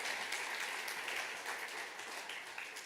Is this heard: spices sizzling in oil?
no